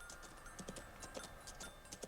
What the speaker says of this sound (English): It's a white horse.